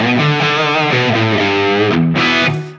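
Electric guitar played through an IK Multimedia TONEX amp capture gives a heavily distorted, sustained tone as a run of chords and notes rings out loudly and continuously, then briefly breaks and resumes before fading.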